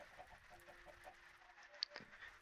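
Faint, soft clucking from a few chickens in a video game, in a quiet setting, with one sharper brief squawk near the end.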